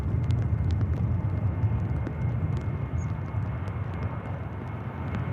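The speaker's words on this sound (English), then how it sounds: "KLM on the rollout to Amsterdam." A KLM airliner at Manchester Airport rolls out for takeoff to Amsterdam, giving a steady, moderately loud jet rumble that fades slightly across the span, with no voices.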